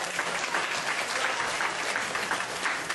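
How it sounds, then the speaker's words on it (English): Even, continuous applause from an awards ceremony audience, a full room of hands clapping at a steady moderate level for the whole stretch. "let's give him a round of applause"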